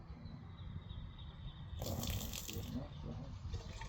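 Water is poured back into a plant pot: a quiet pause, then a soft, close gush of liquid splashing for about two seconds before trailing off.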